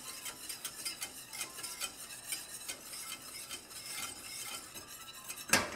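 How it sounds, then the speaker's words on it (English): A whisk works a flour roux in a pot with quick, rhythmic scraping strokes. The sound is faint and close, ending with a sharp metallic clink. "So whisk out all of the lumps."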